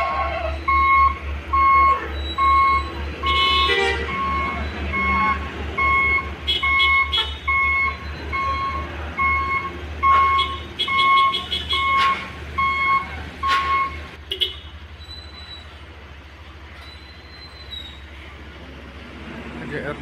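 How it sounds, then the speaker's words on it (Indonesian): A heavy truck labours up a steep incline, its engine droning low and strained under loud repeated beeping, with voices and roadside noise around it until the engine note drops away near the end. "Lagi truk Yodi kesulitan dalam menanjak."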